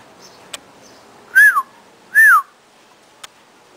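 Two clear, bright chirps with a rising-then-falling pitch sound close by in a quiet room, separated by a short pause, with a few faint ticks around them and no talking.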